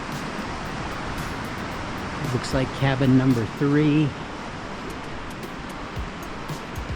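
A stretch of the Crystal River flows past a cabin at a Carbondale KOA campground, a steady broadband rush running throughout, with a person speaking briefly over it.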